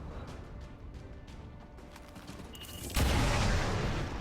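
Gunfire from an XCOM 2 alien-hunting mission, a steady low rumble of battle with faint ticks and short bursts, then a loud, dense blast of shots swelling abruptly near the end.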